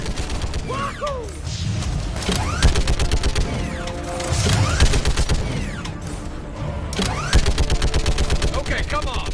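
Rapid bursts of automatic gunfire from the video game Mass Effect 3, loud repeated volleys with crashing impacts across the firefight, while a player's voice speaks over the shooting.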